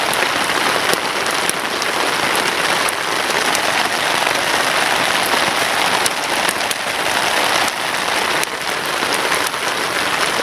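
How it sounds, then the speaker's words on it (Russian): Rain drums steadily and loudly on a surface at a night camp in the taiga, a dense continuous patter with occasional sharper drops throughout. "Дождик разбарабанился."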